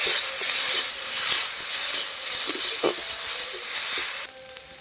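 Salt, chili powder and cumin powder frying in a pan for an egg-paneer curry, giving a steady, loud broadband sizzle with a few faint clinks, which drops off abruptly near the end.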